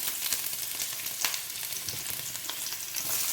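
Onion and garlic frying in hot oil in a pan for chicken vegetable noodles, a steady close sizzle and crackle with occasional louder pops, no talking.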